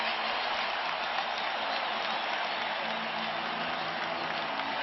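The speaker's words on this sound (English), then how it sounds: "Now you hear the crowd." Basketball arena crowd at a Bulls–Pacers playoff game roaring steadily through a timeout, a dense continuous wash of cheering and clapping with no breaks.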